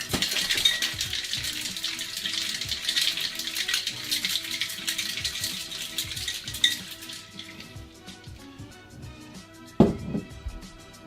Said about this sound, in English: So put your lid on, give it a nice bang, and give it a good hard shake.